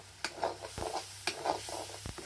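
River fish fry in oil for a curry on a wood-fired stove, giving a close, steady sizzle broken by a few sharp stirring clicks and scrapes.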